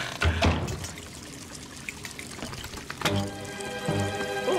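Water pours from a bucket in an animated Fire Engine Sam cartoon, a steady splashing pour with a few thunks, loud and close, with a brighter splash near the end.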